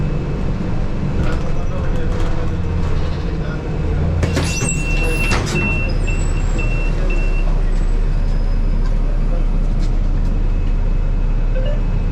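Riding a Rapid KL city bus between Selayang and Kota Raya, the engine hums steadily with low road rumble, a few rattles and faint beeps, and voices briefly in the background.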